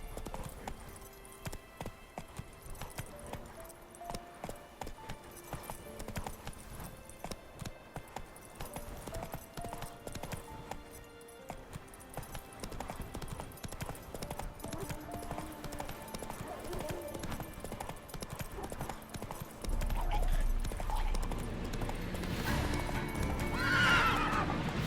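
Roach, a horse in The Witcher 3 game, gallops with rhythmic hoofbeats and snorts beneath game music, and the galloping grows louder and more continuous toward the end.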